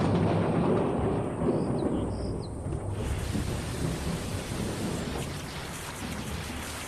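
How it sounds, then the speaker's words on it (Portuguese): Heavy rain pours down in a desert with a deep rumble of thunder, a loud, dense, continuous wash of sound with no voices. "muitos desertos recebem uma breve carga de chuva ao menos uma vez por"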